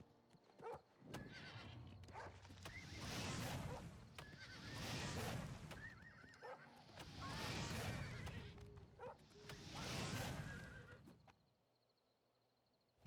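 An in-game ridden horse whinnies and neighs in three long, loud swelling bursts over shuffling hoof clops, then the sound falls away to near quiet.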